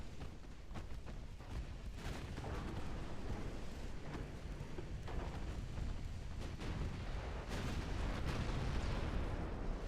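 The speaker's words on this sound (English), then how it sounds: "Oh, that was a big hit. That was a big hit on our heavy cruiser." Heavy naval shellfire in the Ultimate Admiral Dreadnought warship game, a dense continuous barrage of booming artillery blasts and impacts with sharper bursts standing out, loud and sustained throughout with no pauses.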